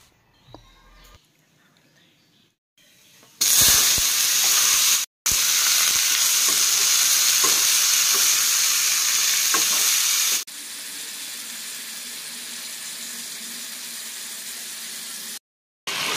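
Raw tomatoes cooking with jaggery in a pan for a sweet-sour chutney give a loud, steady sizzle and hiss. It runs several seconds, breaks off briefly, then carries on at a quieter level.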